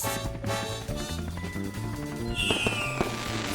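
Animated cartoon fireworks bursting in the air, a quick run of booms and crackles over music, with a bright whistling burst toward the end.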